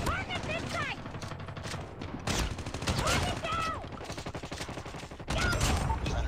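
Shotgun fire in a video game, loud booming blasts mixed with game sound effects and a busy soundtrack, a voice talking over parts of it.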